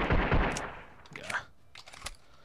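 Automatic gunfire in the video game Freeman: Guerrilla Warfare: a loud, close burst at the start, followed by fainter, scattered shots.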